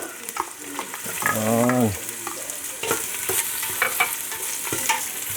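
Garlic, onions and ginger frying together in a pan for pinapaitan, a continuous close sizzle with stirring scrapes and clatter. A person speaks once over it.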